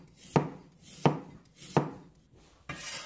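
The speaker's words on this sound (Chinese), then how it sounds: "然后将它切成薄片" A knife cuts peeled sweet potato into thin slices on a board, producing four crisp, close chops spaced roughly evenly, each a sharp thunk with a short tail, with no voices.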